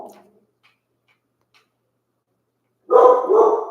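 Dog barking: a couple of close, loud barks at the end after near silence, preceded by a faint trailing sound and light ticks.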